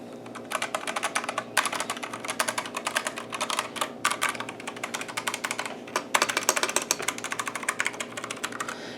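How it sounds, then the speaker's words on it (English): Rapid typing on a budget custom mechanical keyboard in a Meko Push chassis with Red Dragon brown switches, crisp, close keystroke clacks in quick, uneven bursts with brief pauses. "the keys sound a little bit"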